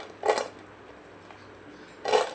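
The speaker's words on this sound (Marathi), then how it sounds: "हे बघा, पनीर किती छान क्रंची झाले हे तुम्हाला आवाजानेच समजतं आहे." Crispy fried paneer crunching, two short crisp crunches about two seconds apart, near and moderately loud, with a quiet background between them.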